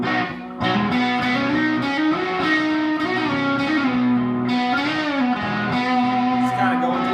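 Electric guitar with effects and light distortion sliding up through major pentatonic scale tones in a country-blues style, sustained notes gliding steadily upward, loud and continuous, no talking.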